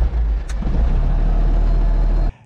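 A Zetor tractor engine idles steadily with a loud, close, deep rumble. It runs evenly throughout, then cuts off abruptly just before the end.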